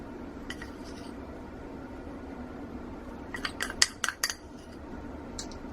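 A spoon smearing dots of colour into soap, heard as a few quiet scraping clinks clustered together, faint and close, with little else around them.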